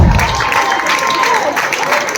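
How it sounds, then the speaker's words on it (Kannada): Applause from the crowd at a stage performance during a Ganesh festival, a steady wash of clapping. A host's amplified voice carries over it. "ಬನ್ನಿ ಚಪ್ಪಾಳೆ."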